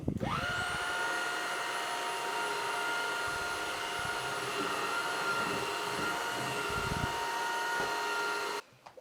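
A Dreame Z10 cordless vacuum cleaner runs with its soft brush head, giving a loud steady motor whine with a rising high tone at start-up. It keeps a constant drone for about eight seconds before cutting off abruptly.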